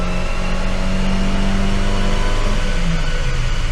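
A Wartburg car engine revs at full throttle on a dyno, loud and continuous from start to finish, a rough steady drone with a rising tone and no voices over it.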